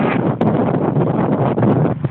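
Wind buffeting an outdoor microphone, a loud, steady rumbling roar that fills the whole clip with brief gusty surges and no talk.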